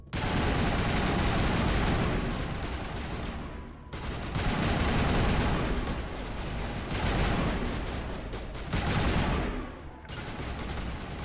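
Gun turrets in Mass Effect Legendary Edition unleash sustained, loud automatic fire in dense bursts, easing off briefly around four and ten seconds before resuming, with no talk over the barrage.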